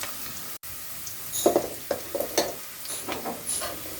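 Onions frying to brown in a pan for fried rice, a soft continuous sizzle with a series of close scraping and clattering stirs.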